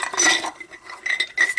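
Small metal stamps and washers clink and rattle against each other in a jar, in two short bursts with a brief pause between.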